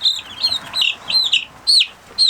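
Young chicks cluck and chirp in short, high, repeated calls, close by, with a few brief pauses between bursts.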